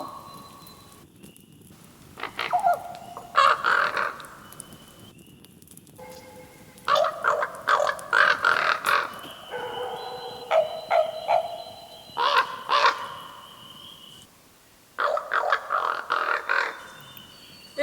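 A bird calls in the woods in repeated bursts of varied, loud, warbling and harsh notes, with short quiet gaps between phrases, against a faint outdoor background.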